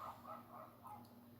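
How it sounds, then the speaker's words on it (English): Dogs barking outside at night, a few distant, muffled yips and barks spread through the clip at a low level. "I don't know if you can hear the dogs barking."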